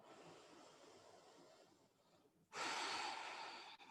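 A deep breath at the end of an all-levels yoga flow, a faint slow inhale followed by a louder, airy exhale that rushes out near the microphone.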